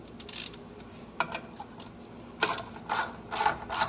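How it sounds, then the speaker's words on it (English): Ratchet turning a 17mm spreader bolt on a Kawasaki Ridge clutch during a clutch kit install, a close run of crisp clicking pawl strokes in short bursts, growing louder and denser toward the end. "Take your ratchet, spread this thing open."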